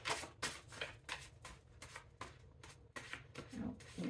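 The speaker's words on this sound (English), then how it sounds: "It's hard to shuffle these cards, so I have to put an elastic." A deck of Hidden Truth Oracle cards held with an elastic is shuffled by hand, producing a run of close, crisp riffling bursts in an irregular rhythm.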